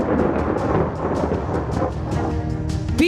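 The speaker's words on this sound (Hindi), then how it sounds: "यहाँ आसमान से ऐसी आफत बरसी, इतनी जोरदार बारिश हुई कि हाईवे तरबतर हो गया।" Heavy rain pours down on a flooded highway in Richmond, Virginia, a steady dense roar with rumbling low-end thunder throughout the full three seconds and a brief rising tone at the end.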